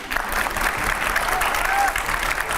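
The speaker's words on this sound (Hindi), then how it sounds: "ताली तो बजाओ।" A studio audience gives a brief burst of applause during a panel discussion with an actress and editors. The clapping is moderately loud and short.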